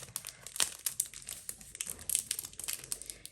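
Plastic packaging around a MAC x Stranger Things makeup brush crinkles and crackles as it is opened, with a few sharper snaps amid close, busy rustling and no voice.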